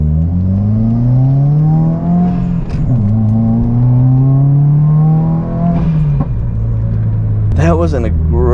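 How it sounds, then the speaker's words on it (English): A modified Subaru WRX accelerates hard, its engine note climbing in steady sweeps before dropping at the shifts, with sharp exhaust pops and a rapid burst of crackles near the end. The engine stays loud and close throughout. "That was an aggressive backfire."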